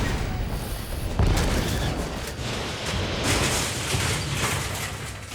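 A sci-fi gun fired in high power mode gives a dense, loud, sustained blast of roaring noise lasting several seconds, broad and booming like continuous rapid explosions, with no voices.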